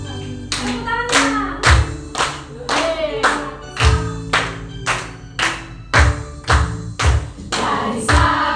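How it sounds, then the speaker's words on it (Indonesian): Schoolchildren in a fourth-grade Indonesian class clap their hands in a steady, loud rhythm of sharp claps that repeats close by across the whole stretch, with no talk over it. "Tepuk tangannya."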